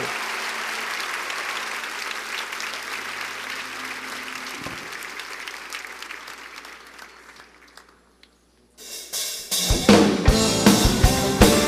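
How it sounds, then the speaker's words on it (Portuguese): Church congregation clapping at an evening Baptist worship service, sustained broad applause that fades away, a near-silent gap, then a loud burst of rhythmic clapping returns close by. "Aplaudam mesmo."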